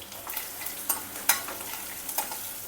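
Finely crushed garlic sizzling over a low flame, a soft continuous frying hiss broken by a few sharp spatters and light stirring clicks.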